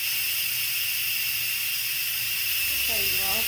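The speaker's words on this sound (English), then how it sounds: "I'm going to release the pressure" Steam hisses steadily from an Instant Pot pressure cooker's pressure release, a loud continuous jet lasting several seconds with a low hum beneath it and a voice starting to speak near the end.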